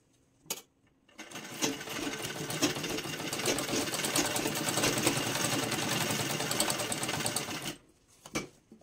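Sewing machine stitching a Sabyasachi-style blouse: a rapid, steady mechanical chatter for about six seconds between short taps, fairly close, with no voice.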